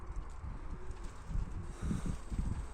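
Pigeons in a backyard loft of racing birds coo in low, soft pulses, the throaty calls rising more clearly in the latter half over a steady background rustle.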